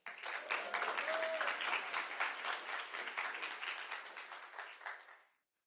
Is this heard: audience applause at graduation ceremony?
yes